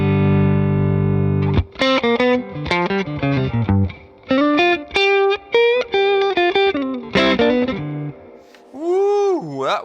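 An electric guitar played through a Xotic pedal with the gain turned up, heard close and alone. Distorted chords and short melodic phrases come in separate bursts, ending in a wavering bend with vibrato.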